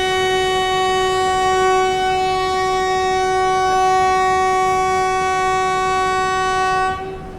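A Patna Tejas Rajdhani train departing New Delhi railway station sounds a long, loud, steady horn blast that holds for several seconds before cutting off abruptly near the end.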